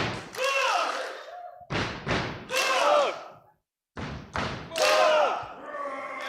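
A chessboxing audience stamps its feet and claps on cue in two rounds of heavy thuds, broken by a short silence, with loud crowd shouts and cheers over the stamping.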